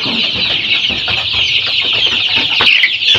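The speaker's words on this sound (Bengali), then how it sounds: "সোনালী ক্লাসিক মুরগির বাচ্চা, এগুলোর বয়স আজকে 26 দিন।" Twenty-six-day-old Sonali classic breed chicks, about five hundred of them on a poultry farm, keep up a dense, continuous chorus of high peeping and clucking, close and loud, with no talk over it.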